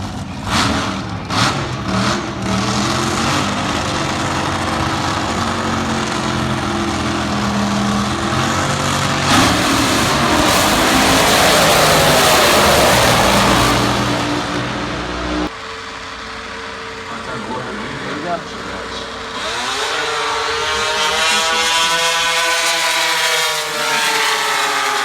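A jet-powered drag racing car roars loud and continuous at the start of a drag race, a steady wide blast that holds for about fifteen seconds before dropping back to a rougher, fading rumble.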